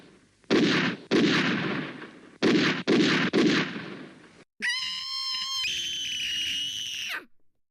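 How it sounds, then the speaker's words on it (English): Several loud, sharp gunshot-like blasts in two quick groups, followed by a sustained shrill, tonal screeching sound that holds for a couple of seconds before cutting off. "Now I'm going to shoot your sorry ass,"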